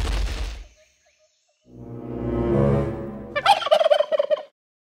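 Someone imitates a turkey gobbling with a rough, warbling burst of throaty calls after a low grunting hum, close and fairly loud, in a homemade turkey-caller test.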